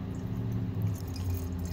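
Red Cabernet Franc wine poured into a glass, a close, continuous gurgling trickle of liquid with soft splashing, steady throughout and without talk.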